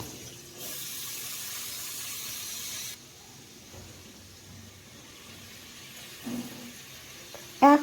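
Potato and green banana pieces fry in mustard oil with a steady sizzling hiss that is louder at first, then settles quieter, with a few faint clinks near the end.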